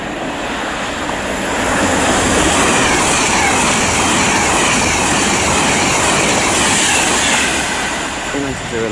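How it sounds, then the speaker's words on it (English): A Class 390 Pendolino roars through Watford Junction on the West Coast Main Line, loud and close, its rushing noise swelling and holding for several seconds before easing slightly. "Pass through now is another 39 Pendolino."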